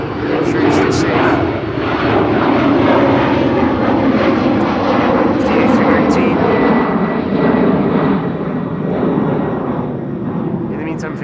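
A jet airliner rolls along the runway at Amsterdam Schiphol Airport, its engines giving a loud, steady roar that holds for the whole stretch with little change in level. Brief high hisses rise above it now and then.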